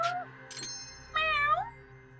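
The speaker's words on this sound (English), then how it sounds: "Oh, why do you have a cat in here?" A cat meows twice inside the video game Judgment, first a short mew and then a longer, rising and falling call, both close and clear over a steady low game hum.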